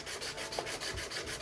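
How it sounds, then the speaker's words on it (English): Quiet, rhythmic rubbing strokes of wet sanding a plastic Honda hubcap, about five quick passes per second, close and soft. "I'm using wet sanding technique"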